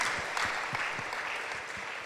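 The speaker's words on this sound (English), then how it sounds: "Now you can do another round of applause for the speaker." Audience applause for a speaker at the H-Summit 2022 conference, a dense continuous roar of many clapping hands, loud and even from start to finish with no voices over it.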